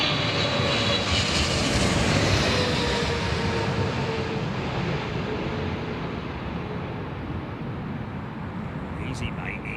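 An airliner lands in a crosswind at London Heathrow Airport, its engine roar loud and continuous throughout, slowly easing off toward the end, with voices faintly underneath.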